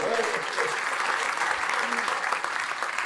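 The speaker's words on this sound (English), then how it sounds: "Let's get a little applause for my brother here" An audience at a sales talk applauds steadily, a moderate, even patter of many hands clapping throughout, with a faint voice briefly audible beneath it.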